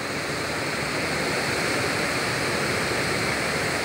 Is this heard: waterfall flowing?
yes